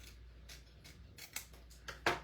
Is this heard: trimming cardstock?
yes